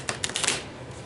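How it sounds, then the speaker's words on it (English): A deck of playing cards being shuffled at a table during a Prime Climb board game, a quick riffle of papery flutters and taps lasting about a second, close and fairly clear with no talk. "I'm going to give these cards a good shuffle"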